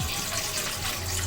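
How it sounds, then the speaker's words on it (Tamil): Water pours into a cooking pot as noodles are prepared, a steady close-up trickle and gush that runs without pause for a little over a second. "கொஞ்சமாக தண்ணி ஊற்றிக்க போகிறேன்."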